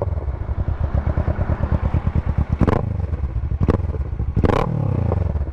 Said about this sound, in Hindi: एक बार मैं आप लोगों को इसका एग्जॉस्ट भी सुना देता हूँ,